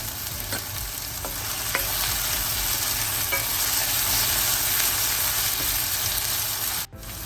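Curry leaves and two dried chillies sizzle steadily in hot oil in a pan for a soya chunk curry, with occasional stirring scrapes and a brief sharp knock near the end.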